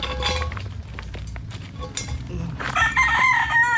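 Chickens cluck and a rooster crows toward the end, with clinking metallic sounds nearby in the foreground.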